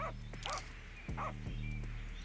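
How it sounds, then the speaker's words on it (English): Dogs barking in the city-building video game Urbek City Builder, a few quick yips and barks over a steady background hum, faint and brief. "Oh, there's dogs."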